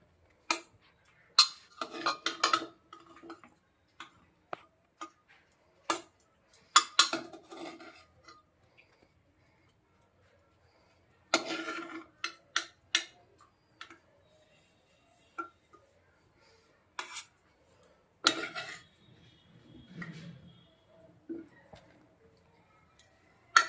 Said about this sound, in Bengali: প্রেসার কুকারটা ঠান্ডা হয়ে গেছে, এবার খুলে নেব। ফুলকপিগুলো তুলে নেব জল ছেঁকে ছেঁকে।